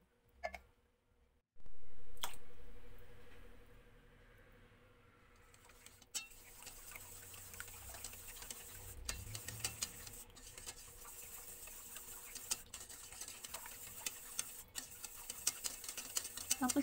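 A utensil stirs a leche flan mixture of evaporated milk and vanilla in a bowl, making quick steady clicking and tapping with a soft whoosh near the start.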